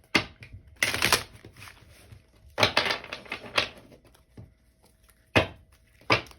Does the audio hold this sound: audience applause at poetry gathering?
no